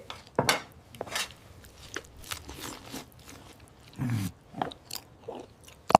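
A cartoon Hulk eating a meal, heard as irregular crunching and chewing bites with light clinks of dishes and cutlery, close and fairly quiet, with no talking.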